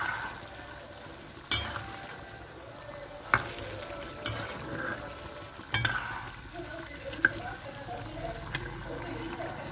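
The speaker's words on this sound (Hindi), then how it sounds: "चने की दाल फ्राई होके ऊपर आ जाएगी फ्रेंड्स, तब तक हमें इसे फ्राई करना है" Chana dal fries in hot oil for a savoury namkeen snack. A steady sizzle bubbles close by throughout, with occasional sharp stirring scrapes and a voice faintly underneath.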